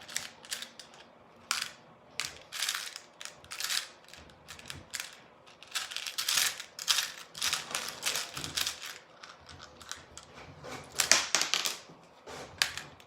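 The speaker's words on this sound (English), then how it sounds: "And that noise is the printer." A home printer runs in a series of uneven mechanical bursts, with clattering, ratcheting print-head passes and short pauses between them, heard at moderate distance and without talk.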